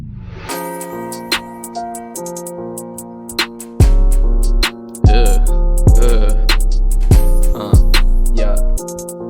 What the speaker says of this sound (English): the second thing I added was a gross beat tape stop, and I automated it to go on here